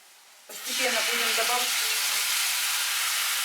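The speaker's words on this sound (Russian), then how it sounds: "Теперь быстро добавляем сюда грибной бульон." Mushroom broth from dried mushrooms hits a hot pan for a mushroom sauce, bursting into a loud, steady sizzle and hiss that starts abruptly after a quiet moment and holds at full strength.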